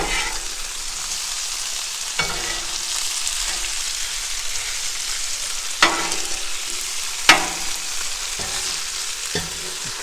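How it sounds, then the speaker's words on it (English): Food sizzles steadily on a Blackstone flat-top griddle while a spatula stirs and scrapes it, with a few sharp metallic clanks of the tool against the hot steel cutting through the constant hiss. "Now we're going to give these a quick little stir."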